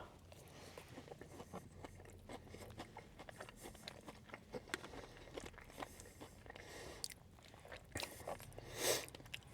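Quiet, close chewing with soft wet bites and faint crunches as someone eats Arby's prime rib steak nugget mac and cheese, irregular mouth sounds continuing throughout with a small louder burst near the end.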